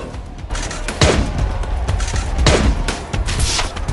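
Gunfire from the video game Last Day on Earth comes as a burst of rapid, sharp shots and booms in close succession at fairly high loudness.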